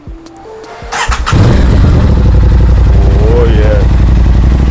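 A rebuilt, crash-damaged 2023 Aprilia RS660 motorcycle engine cranks briefly, then catches and settles into a loud, steady, close idle, with a short spoken remark over it.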